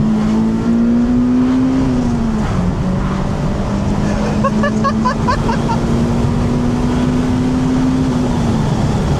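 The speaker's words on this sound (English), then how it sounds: "Rolling through the gears is so satisfying." An old Honda car engine drones steadily close up, its pitch rising and then dropping as it shifts through gears, with a brief higher whine partway through.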